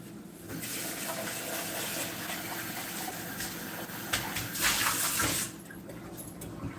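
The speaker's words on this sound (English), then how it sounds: "That doesn't really need to be washed, it just needs to be rinsed, so I just rinsed it." A kitchen tap runs steadily while something is rinsed, with a continuous splashing hiss that swells louder briefly near the end before cutting off.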